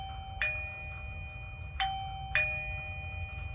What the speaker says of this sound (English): It rings here, giving them audible feedback that the doorbell was received.